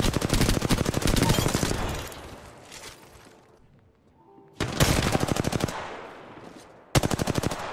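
Rapid automatic gunfire in Apex Legends rattles out in loud bursts, a long volley fading into quieter distant shots, then two more sharp sustained bursts close up.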